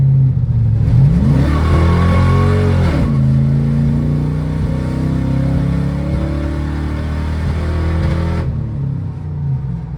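An old car nicknamed Constance, running rough after a new fuel pump, revs and accelerates with a steady mid-pitched engine drone that rises and falls, close and loud, with no talking.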